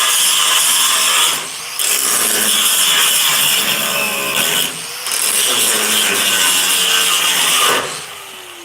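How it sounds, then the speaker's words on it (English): Metal being ground on a 1969 El Camino in a garage workshop: loud, harsh, continuous grinding in three long passes with brief pauses between them, close and without talk. "the grinding portion has ended"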